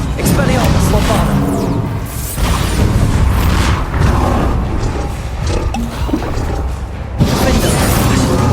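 Magic-spell explosions from the Hogwarts Legacy duelling game, loud booming blasts and crashing impacts layered with roaring effects and battle clamor, continuous and dense throughout with a sharp burst near the end.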